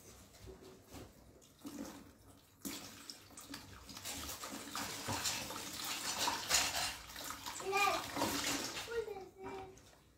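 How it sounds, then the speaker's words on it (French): Water splashes as hands are washed using water from a bucket, a continuous faint sloshing and trickling that grows busier midway, with voices, including a child, talking over it. "Ce soir, je mets un seau. Je lave mes mains."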